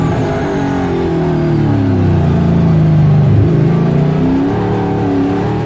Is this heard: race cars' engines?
yes